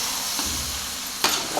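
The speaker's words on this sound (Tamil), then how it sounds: "நல்லா எண்ணெயில் வதங்கணும்" Onions sauté in oil in a pan, producing a dense, loud sizzle throughout, with a brief scraping stir near the end.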